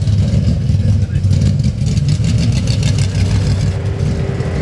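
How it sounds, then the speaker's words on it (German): BriSCA stock car number 390 driven slowly by a mechanic into parc fermé at Skegness, its engine rumbling loud and close with uneven revving, while someone narrates over the top. "ein Mechaniker fährt jetzt das Auto mit der Nummer 390 in den Parc Fermé"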